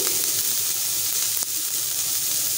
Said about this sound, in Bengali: গাজরগুলো আমার ভাজা ভাজা করা হয়ে গেছে এবার আমি এতে টমেটো কুচি দিয়ে দিয়েছি